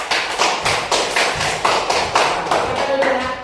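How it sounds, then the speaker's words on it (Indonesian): An audience at a classroom training session claps loudly, a dense burst of hand claps that swells in irregular waves and carries on without any voice. "Sekali lagi aplaus yang keras."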